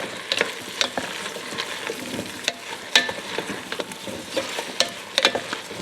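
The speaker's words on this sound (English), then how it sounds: "We're not trying to cook the potatoes, we're just trying to get them kind of brown and that little golden color" Potatoes fry in a pan for green chili stew and are stirred often. A steady sizzle runs under repeated scraping and clattering strokes of the utensil, close and fairly loud, with no talking.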